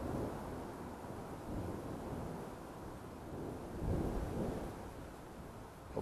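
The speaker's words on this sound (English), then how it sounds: "The clouds are doing things, so there's a storm moving in." Thunder from an approaching storm rumbles low and distant over a campsite, a broad muffled roll with a stronger swell partway through, mixed with wind buffeting the microphone.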